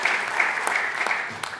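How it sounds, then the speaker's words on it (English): A conference audience claps for the assessors, a short burst of mixed applause with a few sharp, distinct hand strikes standing out from the steady patter. "Round of applause for you folks as well."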